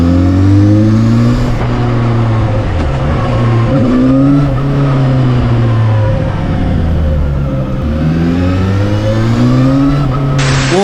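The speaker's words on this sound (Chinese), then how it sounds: "现在让我们听一下 500F 的引擎声浪。" A Zhang Xue 500F motorcycle engine revs up and down repeatedly, loud and close, its pitch rising and falling in several long sweeps with no talking.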